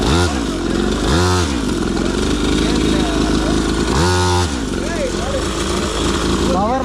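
A Kawasaki Ninja ZX6R petrol motorcycle engine runs loud and close, with a steady buzzing drone and several quick throttle blips that rise and fall.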